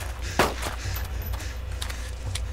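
A few gunshots fired at a zombie in the survival game DayZ, a sharp loud crack near the start followed by fainter shots over steady background noise.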